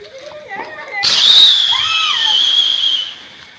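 A rocket firework launches at a Deepavali celebration in Nellikuppam, Cuddalore, giving a loud rising whistle that holds for about two seconds. Voices and children's shouts are heard around it.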